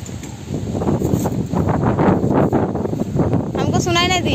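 Strong wind gusts buffet the microphone outdoors in a village, a loud continuous rushing roar with people talking partly underneath.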